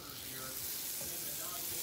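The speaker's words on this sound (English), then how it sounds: "So go ahead and let that sizzle." Pumpkin cheesecake pancake batter sizzles and crackles steadily in a hot buttered pan, a soft continuous frying hiss up close with no talking.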